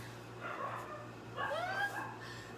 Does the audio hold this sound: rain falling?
no